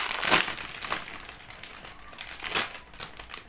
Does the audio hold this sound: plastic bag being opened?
yes